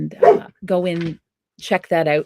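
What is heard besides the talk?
dog barking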